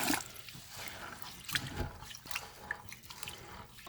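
Cold water running over parboiled rice as it is rinsed for fried rice, a steady close trickle and splash with scattered drips throughout, no voices.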